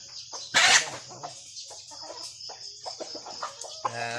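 Several chickens cluck nearby in short, scattered calls at morning feeding, with one sharper squawk early on.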